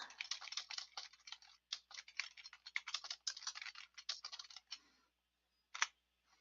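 Rapid, light computer keyboard typing in quick irregular bursts, close and clear, pausing briefly before a final few keystrokes.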